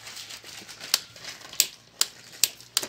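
Several small sharp clicks of a welding mask's mode switch, about five, land at irregular intervals over a faint background hiss, close and fairly quiet.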